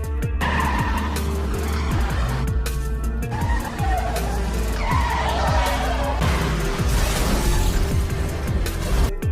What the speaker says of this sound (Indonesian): Inspektur Chen yang marah lalu mengejar mobil milik Wong Po